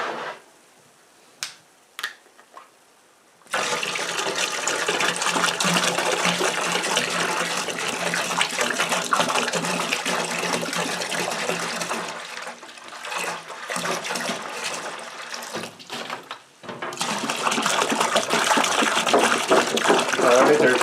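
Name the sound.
apple cider being poured into a large pot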